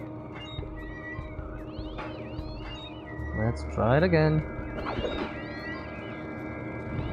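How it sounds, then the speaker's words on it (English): Eerie cat meow from the video game Voodoo Vince: Remastered, a wavering, stretched cry rising and falling over a couple of seconds amid game sounds, with someone talking before and after it. "The cat noise is just weirding me out."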